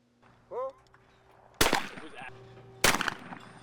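Trap shooting with a shotgun at clay targets: two sharp, loud blasts about a second apart, each followed by a brief ringing decay, with quiet outdoor background and a faint short voice before the first shot.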